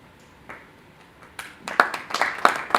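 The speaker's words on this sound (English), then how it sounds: "Let's applaud" Audience applause for the CEO of ITC at an innovation awards ceremony, starting as a few scattered claps and building into denser clapping from a nearby crowd.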